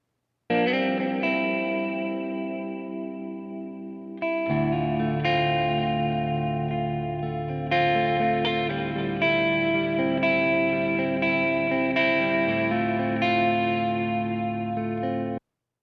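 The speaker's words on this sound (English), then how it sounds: "it's got that little bit of delay and then reverb" Electric guitar chords ring out with a wide, spacious tail of delay repeats and reverb, playing continuously and fairly loud with no voices.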